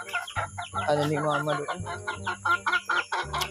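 Backyard chickens being fed cluck repeatedly at close range, with a faint crow-like call mixed in, while someone talks over them throughout.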